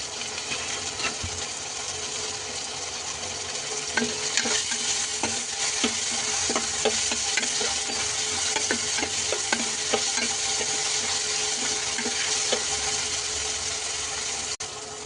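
Tomato and mushroom masala gravy fries in a pan while being stirred, making a loud, continuous sizzle broken by repeated scraping and clicking strokes of the spoon against the pan; no speech.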